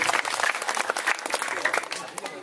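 An audience applauds at a Calonarang performance at a Balinese temple, a lively, fairly close burst of clapping with voices mixed in throughout.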